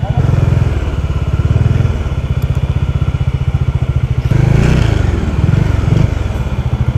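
A motorcycle engine in a motorcycle parking area thumps with a loud, close, rhythmic idle, briefly revving before settling back, with faint voices in the background.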